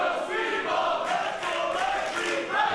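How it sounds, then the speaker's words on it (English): A wrestling crowd cheers and shouts for Speedball Mike Bailey in his match against Bobby Lashley, a dense, steady roar of many voices filling the arena with surges of yelling throughout. "This crowd trying to will their boy Speedball back into this matchup."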